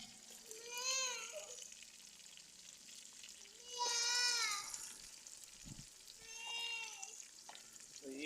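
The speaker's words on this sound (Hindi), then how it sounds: "तो ये अभी हमने चिकन डाली है।" Chicken fries in a pan with browned onions and tomatoes for achari biryani, a steady soft sizzle running throughout while a few whiny, rising cries sound in the background.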